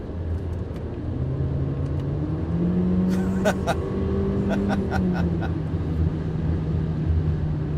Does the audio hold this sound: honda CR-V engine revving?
yes